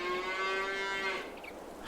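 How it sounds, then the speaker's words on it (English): A single cow lowing in the farming game Farming Simulator 22, one sustained, slightly wavering moo lasting just over a second, fairly quiet and heard alone. "As the cows scream at us."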